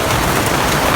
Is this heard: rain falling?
yes